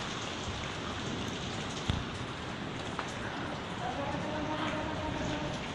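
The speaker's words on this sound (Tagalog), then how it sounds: "Kusog kayong ulan, Emeline." Heavy rain pours down in a dense, unbroken hiss on surfaces close by, with faint voices talking underneath and a couple of brief knocks.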